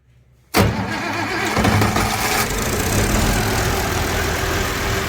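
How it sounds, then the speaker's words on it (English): An old tractor engine cranks and catches after near silence, then settles into a rough, steady idle, loud and close with no one talking. "I'll get this tractor going here"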